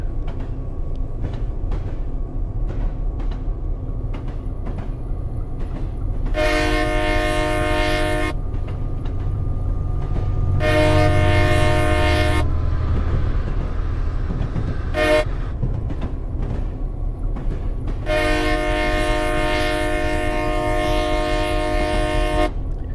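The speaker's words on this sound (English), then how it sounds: "There's another train." A freight train rumbles past a level crossing in the Ohio Steel 2 route of Train Simulator, its horn sounding in several long blasts and one short toot over the continuous heavy rolling noise.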